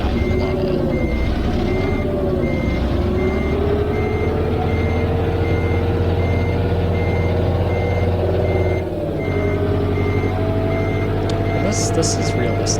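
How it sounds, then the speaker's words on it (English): A loud diesel truck in a truck-driving video game idles with a deep, steady engine drone while a reversing alarm beeps throughout, with a brief dip in the engine and a hiss near the end, and a voice talking over it. "This truck is so obnoxiously loud."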